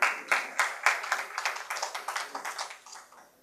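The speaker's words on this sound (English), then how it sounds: "Let's have a big round of applause for Kaisar." A small audience claps briefly for a speaker receiving a memento at a souvenir presentation ceremony, a short burst of near, fairly dense hand claps that thins out and fades within a few seconds.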